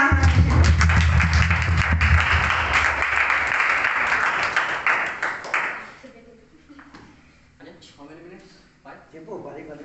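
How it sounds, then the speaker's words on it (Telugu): Audience at a December church youth meeting claps to welcome the next speaker, the applause dense and loud for about six seconds, then fading into scattered claps and speech. "అందరూ చప్పట్లు కొట్టి ఆహ్వానించారు."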